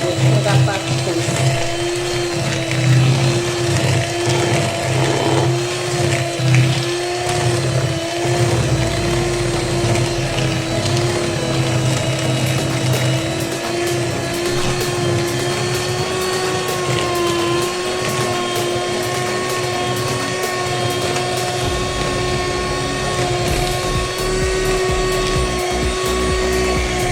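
An electric mixer whirs steadily and loudly for the whole stretch, beating sugar into batter for vanilla cupcakes, with a constant motor drone and rattling scrapes as the beaters work the bowl.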